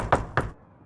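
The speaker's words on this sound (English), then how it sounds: "Dr. Powell, you hear a knock on the door" Two brisk knocks rap on a door in quick succession, close and crisp, followed by quiet.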